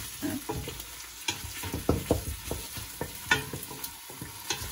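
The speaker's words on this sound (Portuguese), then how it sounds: "Primeiro vem a cebola, tá? Vamos esperar que essa cebola dore." Onion frying in a pan of olive oil and butter, a steady sizzle broken by irregular scraping and stirring knocks, close and alone.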